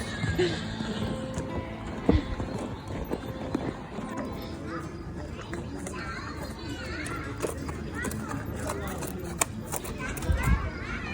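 Horse hooves clip-clop on a hard street in Spain alongside whinnying, with children's voices and chatter going on throughout.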